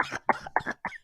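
A short run of four quick, harsh coughs from one person, close and clear, with no talking around them.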